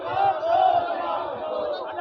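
A large crowd gathered at a Congress party protest rally in Jharkhand, a dense continuous roar of many voices and shouting, loud and steady throughout.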